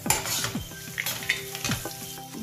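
Chopped greens and spices fry and sizzle in a pan while a spoon stirs and scrapes steadily, with close, continuous crackling and light metal clinks and no voices.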